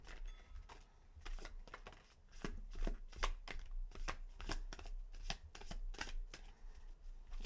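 Tarot cards being shuffled, a run of crisp, rapid riffling bursts and slaps repeating in quick rhythm, close and fairly quiet, with no speech.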